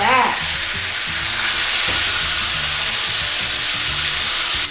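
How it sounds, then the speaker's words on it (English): Steady, loud sizzling and crackling of cubed steak frying in a hot pan, a continuous hiss with no talking. "Listen to that sizzle, guys."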